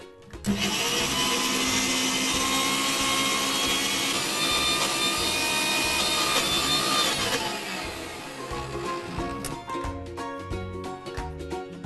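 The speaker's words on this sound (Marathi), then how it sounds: "आता आपण मिक्सर मध्ये बारीक पिसून घेऊ." Mixer grinder whirring as it grinds wet masala for Kerala prawn curry, a loud steady motor whine that drops and turns rougher and choppier near the end as the blades slow.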